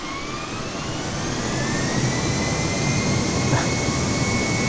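Boeing 737-800 jet engines throttle up in Microsoft Flight Simulator, a loud steady turbine roar with rising whining tones that slowly build in strength throughout.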